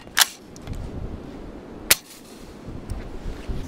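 Two sharp gunshots from a Sugar Weasel firearm fired into dirt outdoors, each a loud crack with a short decay, spaced nearly two seconds apart, with no talking.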